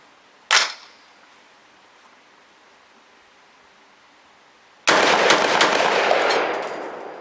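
A Brownell's BRN 601 rifle fires a single loud, sharp shot near the start, followed after a pause by a long burst of rushing broadband noise.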